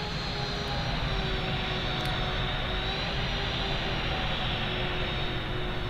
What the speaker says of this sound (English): The Jet 2 aircraft did land, and as I suspected, came in with the alternate livery.